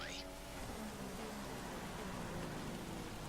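Heavy rain in the F1 2016 racing game, a steady broadband hiss of downpour with a low engine rumble and faint tonal hum beneath, continuous and fairly close throughout.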